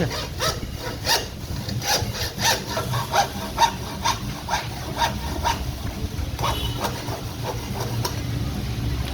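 A hand saw cuts steadily through a mountain bike fork steerer with a rapid, even back-and-forth rhythm, close and fairly loud, scraping through hard material for the whole stretch.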